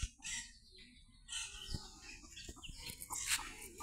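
Chickens clucking outdoors in a green roadside village area, with short chirps and clucks scattered at close range over light background noise.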